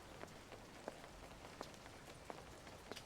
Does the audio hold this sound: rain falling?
yes